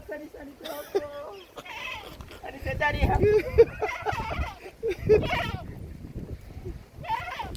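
A farm goat bleats in short wavering calls outdoors, close and fairly loud, mixed with people talking nearby.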